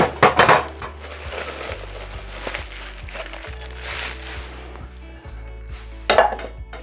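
Metal pots and pans clank and clatter close by as cookware is handled, with louder bursts of knocking at the start and near the end and a low steady hum underneath.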